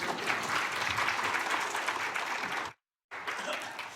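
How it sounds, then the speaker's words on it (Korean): A church congregation applauds at a gospel meeting, a dense, steady wash of clapping that cuts out abruptly and then resumes briefly. "또 한번 박수 쳐주시고"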